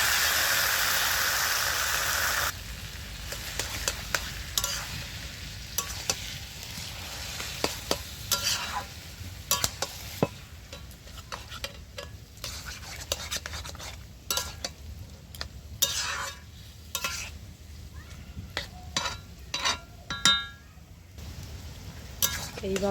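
Taro leaves and prawn curry stirred and fried in a pan, with a constant sizzle under repeated close scraping and clattering strokes of a spoon against the metal.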